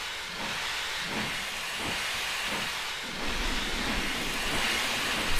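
A steam locomotive in Train Simulator 2020 pulls away with loud, steady steam hiss and rhythmic chuffing exhaust beats, the rumble swelling toward the end.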